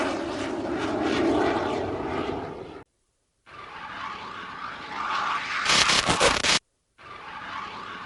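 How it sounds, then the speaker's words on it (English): A fighter jet launches from an aircraft carrier deck with a loud, roaring engine blast and rushing noise, broken by two brief cuts of silence and a harsher burst near the end. "What could be cooler than launching a fighter from the deck of an aircraft carrier?"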